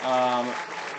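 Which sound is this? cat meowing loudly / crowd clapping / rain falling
crowd clapping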